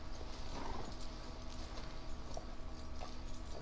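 Horses' hooves clip-clop in Red Dead Redemption 2, faint and scattered over a steady ambient game background, with no talking.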